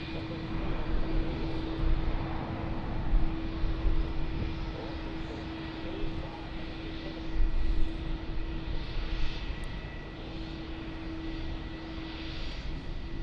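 A China Southern airliner moving at Melbourne Airport, a steady distant jet engine roar with a constant hum that swells slightly and fades, heard alone without talk.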